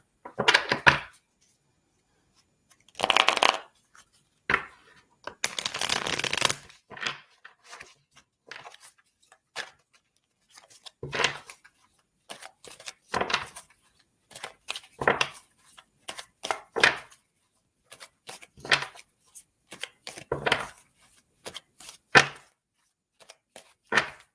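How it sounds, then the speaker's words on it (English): Tarot cards are shuffled in short bursts of crisp riffling and tapping, separated by quiet pauses, close and clear with no talking. "I'm going to pull a couple of tarot cards for you."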